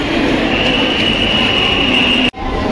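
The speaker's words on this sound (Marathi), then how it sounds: "ऑन टाईम ट्रेन निघालेली आहे स्टेशनवरून" A local train departing a station rumbles steadily with a sustained high whine and broadband roar, then cuts off abruptly near the end before the rumble returns.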